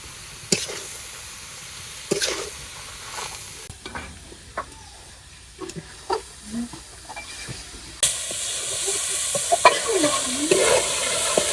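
Radish frying with onion, garlic, turmeric and salt in a pan, with intermittent stirring clacks over a soft sizzle that grows louder and hissier toward the end.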